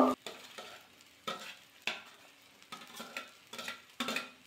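Rice with cashews, raisins and vegetables stir-fried in a pan: a steady sizzle under repeated spatula stirs and scrapes, each push bringing a short burst of frying noise, close and moderately loud with no talk.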